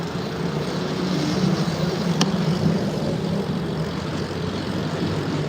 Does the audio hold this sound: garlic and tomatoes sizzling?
no